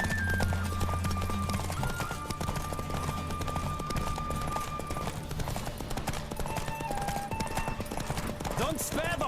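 Hooves of a galloping racehorse in The Witcher 3 pound in a fast, continuous rhythm under music, with a voice speaking over the gallop and a short whinny near the end.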